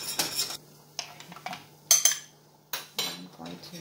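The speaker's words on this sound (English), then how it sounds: "I'm going to mix that in slowly. And whisk it." A whisk knocks and scrapes against a pan as flour is worked into melted margarine for a vegan cheese sauce, giving several sharp metallic clinks separated by quieter gaps, close and with no talking.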